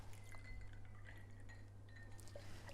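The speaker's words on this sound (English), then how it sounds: "dilute it with water" Water is poured into a glass of apple juice, a faint liquid trickle with light glassy clinks from ice, close but very quiet over a low background hum.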